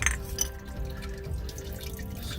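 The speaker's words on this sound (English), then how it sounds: "now you can see the oil really starting to drip out" Hot motor oil drips from the loosened drain plug of a 2014–2018 Chevrolet Silverado into a pan, a soft wet patter with a few sharper drops, close and steady with no talking.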